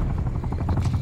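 A support helicopter in the shooter game Call of Duty: Black Ops Cold War, steady low rotor thumping with a continuous engine drone, close and loud for a brief stretch.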